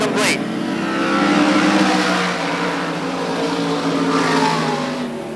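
A sprint race car engine roars steadily at full throttle on a speedway, loud and close, swelling slightly as it passes, with a race commentator talking over it.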